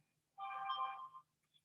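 A mobile phone ringtone plays once, a short melodic burst lasting under a second, fairly faint over a quiet room with no talking.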